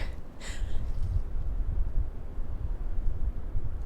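Wind by sea cliffs buffets the microphone in a continuous low rumble, gusting a little louder and softer, with a brief hiss near the start.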